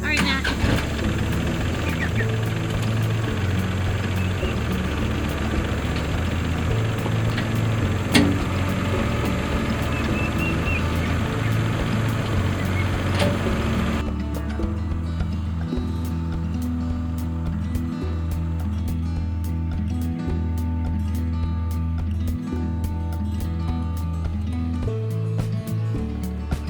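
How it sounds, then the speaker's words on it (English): Tractor engine running steadily while backing up on a farm pasture, a low continuous rumble close by with a steady level throughout and mechanical clatter, with no speech over it. "while he backs the tractor up"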